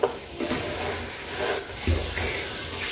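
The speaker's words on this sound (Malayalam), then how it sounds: "നന്നായി ഒന്ന് മിക്സ് ചെയ്ത് കൊടുക്കാം" A spoon stirs and mixes aviyal, a thick vegetable curry, in a cooking pot, giving soft wet scraping and squelching sounds over a light background hiss.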